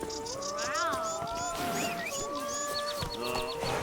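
A cat in The Witcher 3 video game gives several short meows and mewling cries, close and moderately loud, over a backdrop of soft in-game ambience.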